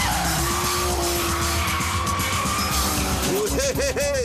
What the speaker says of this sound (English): There was no doubt that the Aston made the better noise.